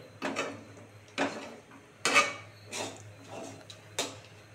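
A thick dhoka batter stirred in a pan on the stove, five soft scraping strokes at a steady, unhurried rhythm, close and fairly quiet with no talking.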